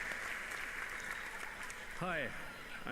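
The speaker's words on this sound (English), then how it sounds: "I'm not sure what they're clapping for." Distant audience applause at the E3 2018 Ubisoft press conference forms a steady wash of clapping, and a voice briefly cuts in near the end.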